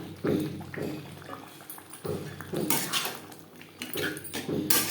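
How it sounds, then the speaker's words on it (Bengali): Boiled chickpeas tumble into a pan of spiced masala, producing a few soft thuds and clattering plops followed by wet stirring and scraping against the pan, close and moderately loud. "এবার দিয়ে দেব সেদ্ধ করে রাখা চানা"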